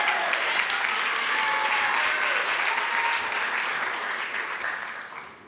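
Sustained audience applause at a 2023 educational leadership graduation ceremony as a graduate is welcomed to the stage, a dense steady roar of many hands that eases slightly toward the end.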